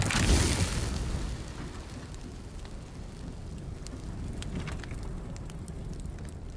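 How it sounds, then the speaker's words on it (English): Fire flares up in the video game Layers of Fear, opening with a loud booming whoosh that settles into a steady crackling roar, with no one speaking. "Oh, it's gonna be on fire again."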